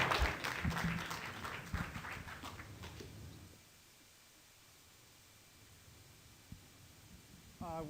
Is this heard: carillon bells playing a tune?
no